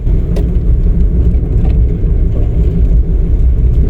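Steady low engine rumble and road noise from a car moving along during a driving lesson, the drone continuous and fairly loud throughout with no talk.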